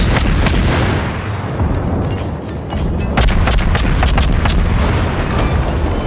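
Warship guns firing during a World of Warships naval battle, with repeated booming salvos and sharp cracks over a continuous loud rumble of gameplay sound.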